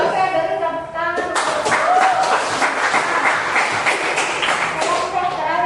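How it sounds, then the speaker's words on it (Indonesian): Classroom applause in an Indonesian fiqh lesson, dense clapping from students that starts after a brief voice and continues steadily, with talk mixed in near the end. "beri tepuk tangan"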